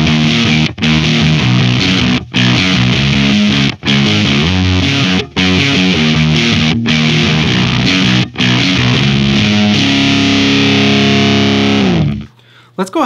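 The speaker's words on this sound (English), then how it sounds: "you can hear that we're starting to get some more snarl and gain in there." Electric guitar played through a Benson Amps germanium fuzz pedal, snarling and gainy, chugging in repeated chord bursts with brief gaps before a final sustained note fades out.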